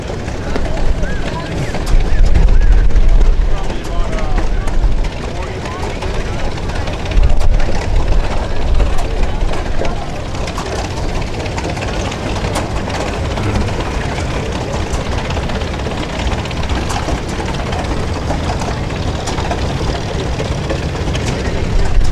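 Low rumbling engines of vintage tractors, including a John Deere 530, chug steadily nearby at a pioneer days show, with people talking over the throbbing drone throughout.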